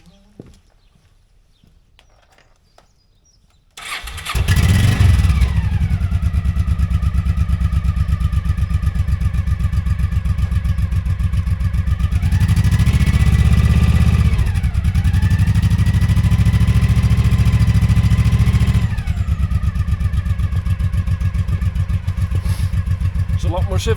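A Honda PC800 motorcycle engine with its original stock exhaust fires up after a few quiet seconds, then settles into a loud, steady idle. It swells with a moderate rev midway, alone and close.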